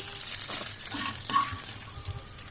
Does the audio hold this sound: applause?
no